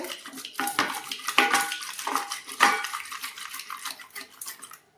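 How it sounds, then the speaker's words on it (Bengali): A wooden dal masher stirs and blends an oily aloe vera gel mixture in a bowl, giving close, continuous scraping and knocking against the bowl with a few sharper clinks and no talking. "এটা দিয়ে আমি ভালো করে ঘুরিয়ে ব্লেন্ড করে নিচ্ছি ডাল ঘাটা ঘাঁটাটা দিয়ে"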